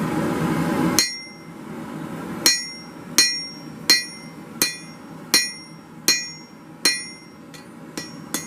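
A hammer strikes hot steel during rough forging, ringing blows landing one by one at a steady pace, about ten sharp metallic clangs with short decays, close and clear with no talking.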